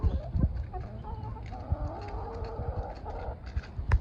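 Several chickens in a cramped coop cluck close by, a busy overlapping flock with short clucks and calls scattered throughout.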